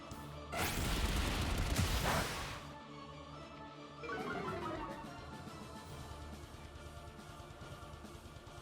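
Flare Blitz attack in a Pokémon battle game: a loud fiery crash and whoosh up front, then a quieter impact effect and lingering battle music.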